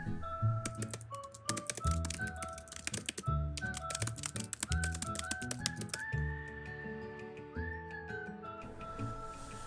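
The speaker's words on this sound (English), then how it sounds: "Typing The Great Gatsby" Rapid keyboard typing of a novel's text, crisp clicks and key taps scattered in quick bursts over steady background music, fairly close and moderately loud throughout.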